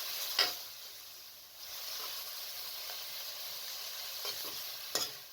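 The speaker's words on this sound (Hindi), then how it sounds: "इसके अंदर तमाम मसाले जात को शामिल कर दें और मीडियम आंच पर ज़रा भूनें।" Spiced minced keema (meat) frying over medium heat in a pan for aloo keema, a soft steady sizzle with a few sharp clicks and scrapes of stirring, fairly quiet and without voices.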